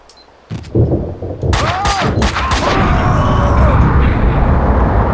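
Heavy gunfire from a powerful gun in Max Payne 2, a sharp burst of shots followed by a sustained loud rattle of firing that continues to the end.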